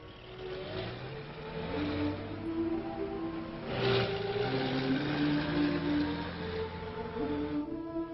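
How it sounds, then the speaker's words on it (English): Ambulances and buses carry patients to a hospital during a 1950s tornado mass-casualty drill, a steady mid-range engine drone that swells slightly as vehicles move, with no talk. "Ambulances and buses are pressed into service to take patients to the main hospital building"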